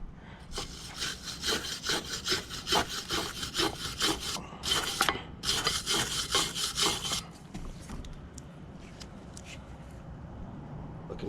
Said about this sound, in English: so we're gonna just use our wire brush